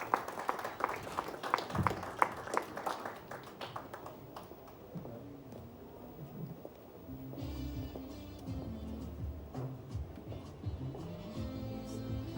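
Audience applause at an entrepreneurs' session, a burst of clapping that fades over a few seconds, followed by low room murmur and faint background tones.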